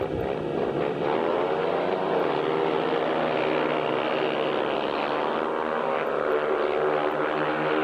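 Several speedway motorcycles roar off the start together, their engines loud and constant with rising, overlapping whines, while a commentator speaks over them.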